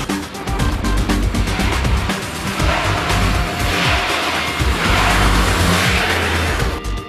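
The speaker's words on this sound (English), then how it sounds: "All nominated vehicles were repeatedly driven by qualified performance drivers to get the" A car driven hard by a performance driver in handling tests, engine roaring steadily with tires squealing and skidding, loud and close throughout with no pauses.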